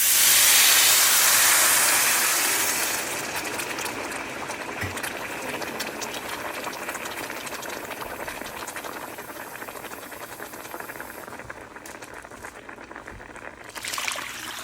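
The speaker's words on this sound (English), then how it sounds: "I'm going to add 5 cups of water for stovetop." Five cups of water pour into a hot stovetop pot after toasting, giving a loud sizzling hiss of steam at first that settles into steady bubbling and simmering.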